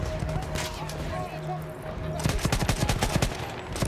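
Gunfire in the World War I shooter Battlefield 1, a rapid burst of automatic shots rattling in quick succession during the second half, loud and close, following a stretch of steady battle noise and hum.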